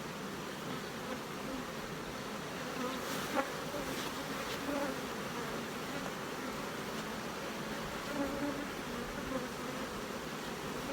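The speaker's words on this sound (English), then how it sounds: "all these boxes have bees actively working inside here" Honey bees working inside hive boxes hum in a dense, continuous buzz at close range, steady and fairly quiet, with a few faint knocks and no speech.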